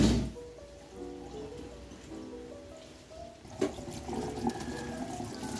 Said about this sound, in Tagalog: Sa running water para medyo malinis.